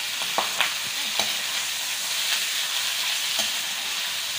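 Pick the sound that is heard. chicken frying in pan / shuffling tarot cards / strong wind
chicken frying in pan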